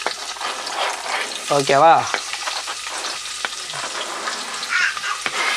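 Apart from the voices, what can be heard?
onions frying in hot oil for chicken biryani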